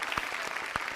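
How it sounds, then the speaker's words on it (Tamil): A studio audience at a Tamil TV show claps together to welcome a guest, a dense, close burst of applause with no voices. "நல்லா ஜோரா கைத்தட்டி நம்ம ரவிசாந்த் அவர்களை வெல்கம் பண்ணிடலாம்"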